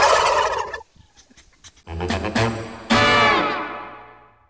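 Turkeys on a farm gobble loudly and close by in several bursts, a long rattling call, a pause, then two more gobbling outbursts, the last fading out slowly.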